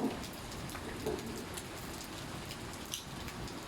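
Steady rain falling on a surface, a soft continuous patter with occasional slightly louder drops, no voices.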